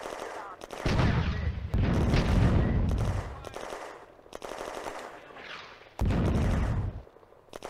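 Panzers and armoured vehicles fire in a World War II Eastern Front video game battle, with loud, heavy bursts of rapid gunfire and booming shots that come in several long volleys separated by brief pauses.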